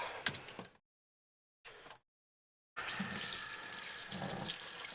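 Water splashing and running in a sink while a spill is cleaned up indoors, coming in three bursts broken by silences, with the last stretch a steady, close, fairly loud flow.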